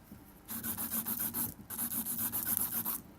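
A nail file rasps back and forth across pink and white gel nails in quick, close strokes, with two short pauses breaking the rhythmic scratching.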